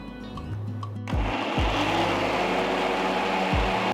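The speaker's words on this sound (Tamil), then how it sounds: "நம்ம இதை மிக்சியில் மாற்றிக்கலாம் கொஞ்சமாக தண்ணி ஊற்றி நல்ல மையாக அரைச்சிக்கணும்" A mixer grinder whirs loudly and steadily after a brief quieter start, blending beetroot with a little water into a puree, its motor running close by without pause.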